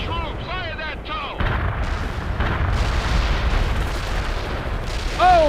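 Heavy battlefield fire in the World in Conflict strategy game, with a TOW missile launch mixed into dense, booming artillery. The barrage is loud and continuous, and brief radio-style voice chatter rises above it at the start and near the end.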